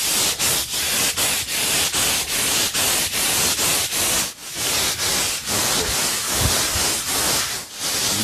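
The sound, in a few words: sanding a countertop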